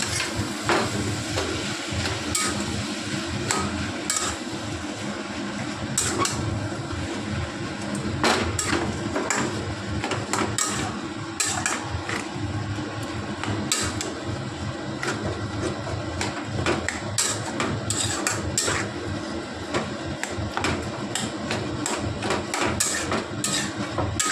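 A spoon scrapes and clanks steadily against a pot while banana flower curry with rice is stirred, giving a continuous, busy cooking noise full of sharp, repeated knocks and no talk.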